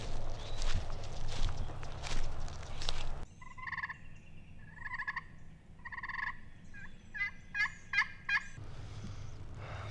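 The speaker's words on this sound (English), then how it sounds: "We did hear some gobbling" Wild turkeys gobble in a Deep South hunting woodland, several rattling bursts in a row at moderate distance, with quieter rustling and footstep noise before and after.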